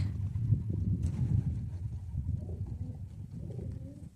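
Homing pigeons cooing near the loft as the young birds come back in autumn, a low, soft, continuous murmur of coos close by with no talk over it.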